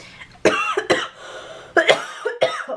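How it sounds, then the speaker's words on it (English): Three or four harsh, close coughs in quick bursts, with short pauses between them. "I'm just coughing"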